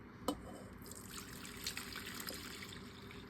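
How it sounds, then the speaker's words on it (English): Liquid drained from a bowl of grated potato and onion trickles and drips quietly and close by, a soft continuous pour with a small clink at the start and no talking. "Now for the next step, I'm just going to pour off the liquid."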